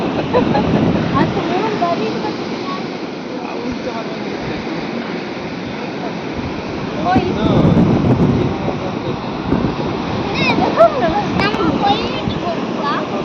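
Wind buffets the microphone on a beach while surf rumbles steadily underneath, with gusts swelling and easing throughout and voices faintly audible beneath the roar.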